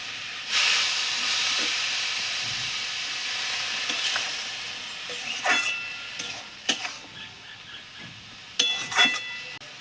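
Spice paste of ground cumin, ginger and green chilli sizzles loudly in hot oil as a little water is added, a dense hiss that gradually settles into intermittent crackles and sharp pops from stirring.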